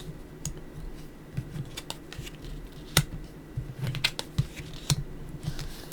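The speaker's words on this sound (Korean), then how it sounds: "타로 카드 열어볼게요" Tarot cards being opened and laid out, with soft rustles and crisp slaps and taps of cards close by, coming in irregular bursts that peak sharply around the third second.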